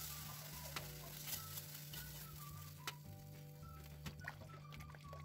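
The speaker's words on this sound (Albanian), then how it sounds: "I bëjmë një përzirje derisa lëngu të filloj të trashet" A spoon stirs butter-fried flour into simmering lamb broth as it thickens, with soft, irregular scraping clicks over a low, steady sizzle and a faint tonal hum.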